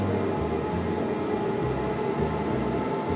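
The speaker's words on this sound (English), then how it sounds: "The only noise you can hear at the moment is the gas freeing fan." A gas freeing fan ventilating the cargo tank of an oil tanker gives a steady, loud, broadband roar with a faint rhythmic pulsing, heard alone inside the enclosed steel tank.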